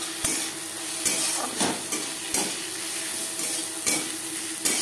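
Onion with ground ginger and green chili paste sizzles in a pan for a fish egg curry, while a spoon stirs and scrapes against the pan in regular strokes, close and clear with no talking.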